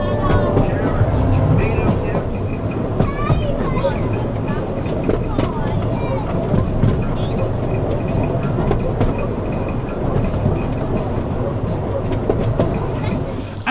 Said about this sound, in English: some on-ride footage there then of the Rio Grande Railway